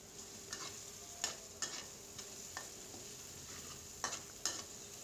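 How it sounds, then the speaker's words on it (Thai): Pounded garlic stir-fried in a pan at home, a steady soft sizzle under repeated scraping strokes of a utensil against the pan, several distinct clinks spaced through the clip. "ใส่กระเทียมที่โขกไว้ลงไปพัดเนาะค่ะ ให้กระเทียมเหลืองเนาะค่ะ"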